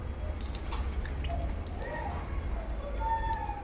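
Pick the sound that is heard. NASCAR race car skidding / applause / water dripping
water dripping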